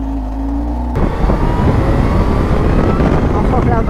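Kawasaki Z H2 supercharged motorcycle being ridden, starting with a steady idle-like drone that jumps into loud, rough, wind-buffeted engine roar after about a second and holds close and continuous.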